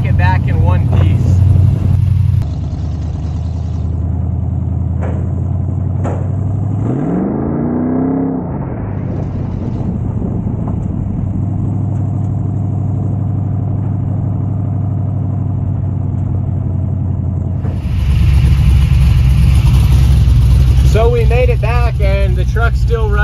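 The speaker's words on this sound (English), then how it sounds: "It doesn't get much better than the sound of a V8 and the low torque it makes." A Chevy C10 pickup's V8 engine idles and runs with a deep, steady rumble, a revving swell partway through, then grows louder and rougher toward the end, with someone talking over it.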